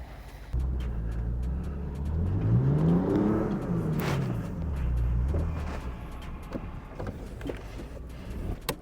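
A 4th gen vehicle is tugged out of snow on a kinetic rope while its engine revs up, rising and falling in a loud whining drone, then settling to a steady idle under wind and a few clunks.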